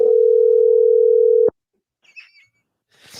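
A telephone call tone sounds as one loud, steady, continuous note for about a second and a half, then cuts off abruptly. A few faint chirps and rustles follow.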